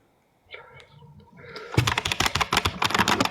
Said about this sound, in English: No, I got a mechanical keyboard. It's loud.